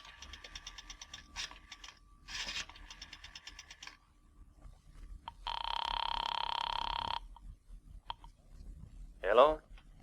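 A rotary telephone is dialed in a radio drama, with a run of rapid ticking dial clicks, then a single loud ring burst on the line, followed by a brief rustle.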